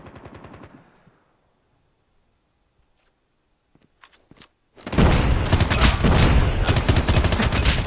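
Burst fire from the RUS-79U SMG in COD Mobile: a short opening volley, a quiet stretch with scattered ticks, then loud, dense, rapid shots hammering continuously through the rest.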